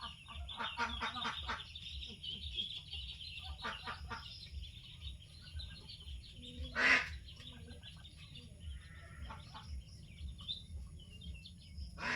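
Domestic ducks being herded into a pen quack repeatedly at close range in quick rhythmic bursts, with brief lulls and one sharp louder noise partway through.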